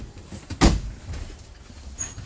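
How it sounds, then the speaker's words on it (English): A truck cab door shuts with a single solid thud during a pre-trip inspection, against a low steady background hum with faint later knocks. "Close the door, switch down"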